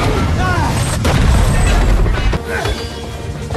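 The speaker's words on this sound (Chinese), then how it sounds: "约翰利用大炮对准大门开了一炮，这时要塞里的人发现有人偷袭，随即伊凡中尉也开炮反击" Cannon fire at a fortress gate in a battle between Mongol cavalry and a Russian fort, heavy booms and crashing impacts with a loud rumbling low end, layered with battle noise.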